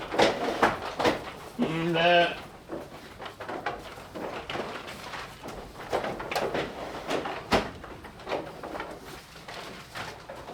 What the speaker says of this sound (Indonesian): Ini domba betina kita yang bunting ya, teman-temannya sedang pada asik makan.